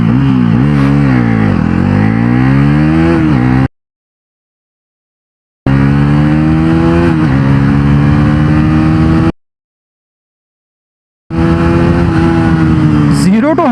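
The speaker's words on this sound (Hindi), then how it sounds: "अब टेस्ट करते हैं पल्सर NS400Z 350cc इंजन के साथ ये बाइक 0 to 60 और 0 to 100 km/h की स्पीड कितने सेकंड्स के अंदर अचीव करती है" A Bajaj Pulsar NS400Z motorcycle with a 350cc engine accelerates hard in a 0–100 km/h test, its loud, close engine note climbing through repeated gear changes in three separate bursts with silent gaps between.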